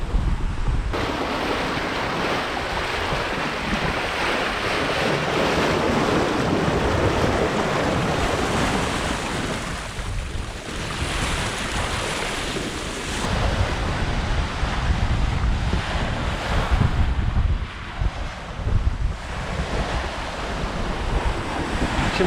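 Steady roar of ocean waves and gusting wind off the Jamaican coast aboard a Hallberg Rassy 54 sailboat, broad and continuous throughout with surges of surf and wind buffeting the microphone.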